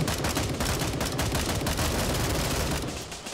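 Rapid gunfire in the shooter Gray Zone Warfare, dense automatic bursts and overlapping shots crackling nonstop, loud and close, fading slightly at the very end.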